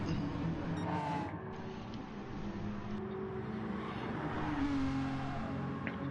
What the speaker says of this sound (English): He is revving it out.